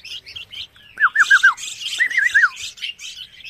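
Baby red-whiskered bulbul chicks on a bird farm give short squawks and rising-falling chirps, several quick calls in two bursts, close and clear over a quiet background.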